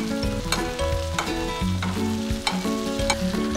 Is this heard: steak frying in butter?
yes